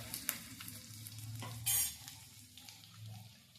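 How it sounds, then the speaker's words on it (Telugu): Onions fry lightly in a pan for a taro curry, a soft, close sizzle broken by a few scraping stirs of a spoon against the pan. "ఉల్లిపాయలు పెద్దగా వేగనక్కర్లేదండి."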